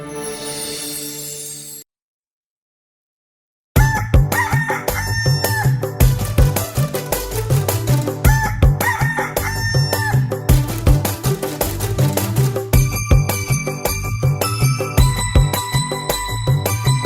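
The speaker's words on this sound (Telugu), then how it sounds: "మంచి కొక్కర కోడి, ఉదయం మేలేచి ఊరు నెలిపి ఉత్సాహమిచ్చే కోడి, మన పందెపు పుంజు కోడి." A rooster crows in an animated Telugu children's story, a fighting cock greeting the morning. After a brief crow and a short silence, loud rhythmic music with bells plays throughout, so the crowing is mostly carried over the steady musical backing.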